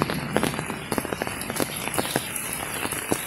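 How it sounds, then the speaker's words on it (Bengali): Light rain falls in a village, a soft steady patter with scattered crisp drip taps landing close by. "আবহাওয়াটা ভালো আছে, মেঘলা মেঘলা ভাব কম, কিন্তু বৃষ্টি হইতেছে"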